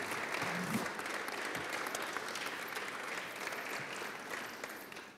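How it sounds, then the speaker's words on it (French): An audience at a social innovation conference applauds, a dense, sustained wash of many hands clapping that holds steady and tapers slightly toward the end. "On peut les applaudir."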